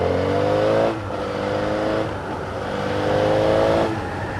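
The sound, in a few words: large vehicle engine running, the Chuggernaut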